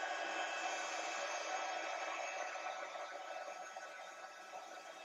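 A heat tool blows steadily while embossing powder is set on a papercraft project, a constant hissing whoosh that fades a little toward the end, no talk.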